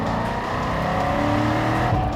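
A deep 8.2-liter V8 engine of a Pratt & Miller Corvette C6RS rumbles steadily and loudly up close, a continuous low thrum with a slight rise in pitch.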